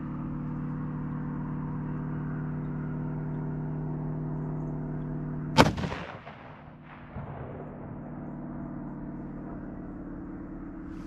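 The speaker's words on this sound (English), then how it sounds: "we'll take 3 shots with our normal whitetail" A 6.5 rifle firing 140 grain soft tip whitetail ammunition lets off a single sharp, loud shot that rolls away into a fading echo, with a steady engine-like hum before and after.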